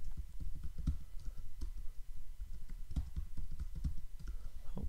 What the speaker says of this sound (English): So we click on create a password and type in a password.